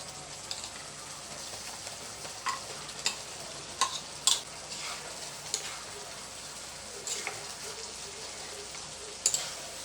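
Tofu simmering in a pan with oyster sauce, soy sauce and calamansi, a quiet steady bubbling hiss punctuated by occasional light clicks and spoon taps, close but faint, with no talking.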